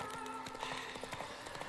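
A horse gallops in The Witcher 3 game, rapid rhythmic hoofbeats clopping steadily at close range over a constant background hum, with no talking.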